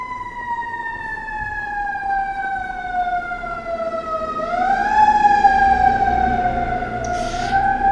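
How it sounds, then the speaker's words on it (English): A loud siren wails continuously nearby, its pitch slowly falling, then rising and holding, with traffic rumble underneath. "that siren going off"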